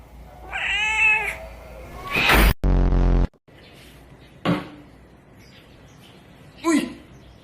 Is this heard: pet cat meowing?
yes